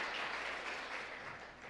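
Sustained applause from a church congregation welcoming a chairman to speak at a second Sunday service, a steady even wash of many hands clapping at moderate distance, with no talk over it.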